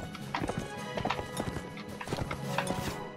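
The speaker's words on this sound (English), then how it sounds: "Not the best place to be fighting on horseback." Horse hooves clip-clop in a steady galloping rhythm during horseback combat in the medieval game Mount & Blade: Warband, with a brief whinny and busy background clatter, close and moderately loud.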